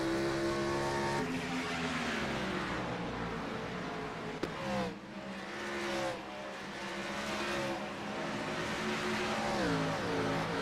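Stock race cars circling Rockingham in the iRacing simulation, engines roaring loud and close with shifting revs and the high whine of cars passing low on the track, one car sliding by underneath, no voices.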